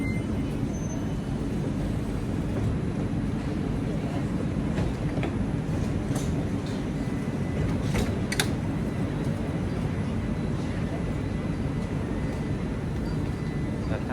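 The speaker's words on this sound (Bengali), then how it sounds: "আমি উঠে গেলাম ট্রামের মধ্যে" Steady rumble of a tram in motion through Luxembourg City, with a constant low drone from wheels and motor and occasional clicks and rattles, heard from inside.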